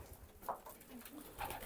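Soft, low pigeon coos in a coop, sounding nearby in a quiet space, a couple of brief murmuring calls over faint background noise.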